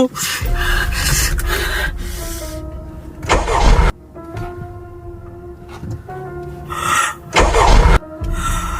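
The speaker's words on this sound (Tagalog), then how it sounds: "Ayaw mag-start ng kotse." A car engine cranks in repeated bursts of grinding and churning, separated by short pauses, and never catches, with breathy gasps and sounds of struggle in between.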